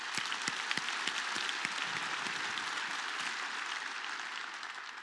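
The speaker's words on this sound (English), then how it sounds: "I want to just give you all a round of applause" Large keynote audience applauding, a dense, sustained roar of clapping from many hands, fairly distant and even, slowly tapering over five seconds.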